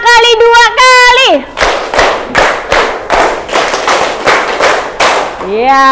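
A group of children in a classroom claps in a quick, rhythmic pattern, a run of loud sharp slaps close by, with children's chanting voices before it and a voice starting at the end.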